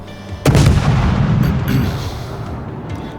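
Warship guns fire in World of Warships, a loud booming salvo that opens with a sharp blast and rolls into a sustained low rumble.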